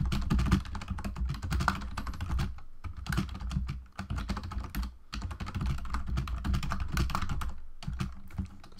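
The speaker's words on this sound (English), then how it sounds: "So what we're going to do is we're just going to type in" Steady typing on a computer keyboard for Office Word inside a Windows 10 virtual machine on an M1 Mac, a dense run of close, rapid key clicks with a couple of short pauses and no talk.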